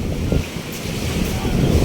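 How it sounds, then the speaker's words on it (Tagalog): Ocean waves wash onto a beach in Southern Leyte, a steady broad surf roar blended with wind buffeting the microphone, with a faint voice at moments. "Ang alon."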